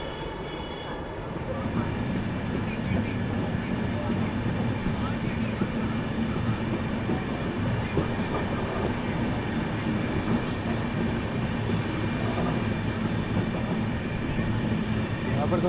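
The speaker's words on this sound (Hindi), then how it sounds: "अपनी ट्रेन जो है प्रयागराज जंक्शन की ओर बढ़ रही है" Jharkhand Sampark Kranti Express train rolling toward Prayagraj Junction in fog, a steady close rumble of wheels and carriage noise lasting throughout without a break, with a faint rhythmic clatter underneath.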